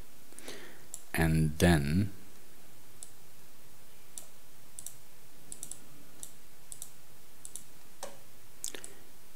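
A computer mouse clicking, several faint sharp single clicks spaced out, with a short burst of speech early on.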